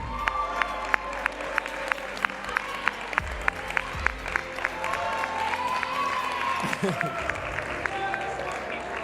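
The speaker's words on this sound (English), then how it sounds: "please give a big round of applause for their hard work in the classroom" Audience applauding at a school awards ceremony, a room of clapping with sharp individual claps, a few cheers and children's shouts, and voices talking over it.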